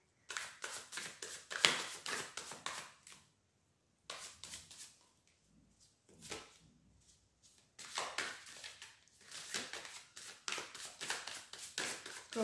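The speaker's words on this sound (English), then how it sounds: "I keep shuffling for another." A tarot deck is shuffled in bursts close to the microphone, quick papery riffles and slaps in three runs with quiet pauses between them. No one speaks.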